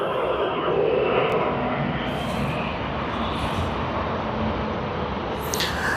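A jet airliner during peak hour departures at Sydney Airport roars in a steady, loud, broad engine rumble that holds throughout, with faint higher sounds drifting in and out.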